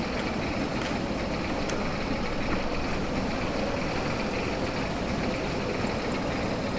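A loud, steady vintage combine harvester engine drones continuously at close range, a rough low rumble with mechanical clatter and no pauses.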